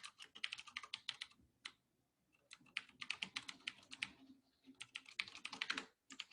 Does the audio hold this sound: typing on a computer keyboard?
yes